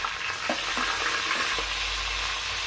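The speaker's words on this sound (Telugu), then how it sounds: "ఇలా పచ్చిమిర్చి, కరివేపాకు, పోపు దినుసులు వేసి కొద్దిసేపు నూనెలో వేయించాలి." Green chillies and curry leaves with tempering spices fry in hot oil in a pot, a steady bright sizzle with a few light stirring clinks, close and continuous with no talk.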